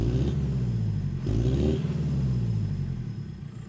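Land Rover Defender converted to a JCB 4.4 industrial diesel engine with a quiet exhaust, giving a steady low rumble with a brief throttle swell, heard close and alone without any speech.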